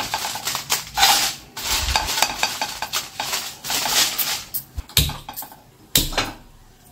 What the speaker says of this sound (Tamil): நான் லைட்டாக வறுத்துக்க போகிறேன்